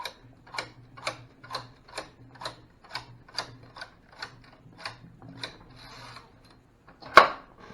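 A knitting machine carriage runs across the bed in an even series of about a dozen mechanical clacks, each a short rattling stroke, closely miked and alone, ending in a sharper clatter.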